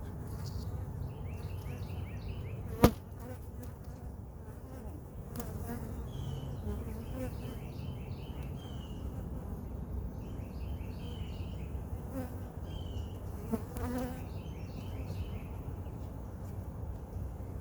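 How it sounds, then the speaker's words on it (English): A steady, continuous drone of many docile honey bees buzzing close by while being put into a hive box, with occasional louder passes as individual bees fly near, plus a sharp knock early on. "These are some very docile bees."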